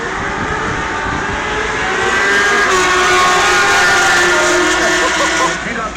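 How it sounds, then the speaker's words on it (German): A race car accelerates down the right lane of a drag strip during a trackday, its loud engine roaring steadily and swelling to a peak before cutting off near the end. "Dominik Lachmuth mit dem Monsterkar fährt auf der rechten Bahn gegen Ricky Meisch."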